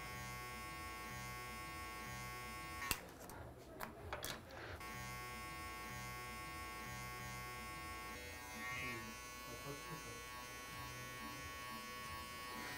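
Electric hair clippers buzz steadily and close while cutting a fade haircut, a continuous motor hum with a few short clicks and rustles near the start, no talking.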